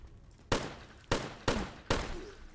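Gunfire at zombies in the video game Zompiercer, set in tunnels; four sharp, loud shots spaced about half a second apart, each with a short decaying echo over a low ambient hum, with no talking.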